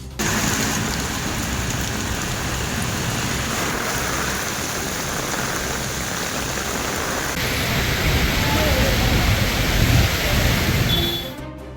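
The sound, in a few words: heavy rain with strong wind in Chennai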